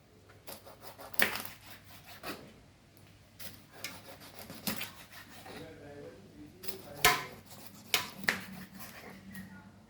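A knife saws and scrapes through a milkfish to take off the head, heard as close, quiet, irregular rasping cuts with a few sharper crunches.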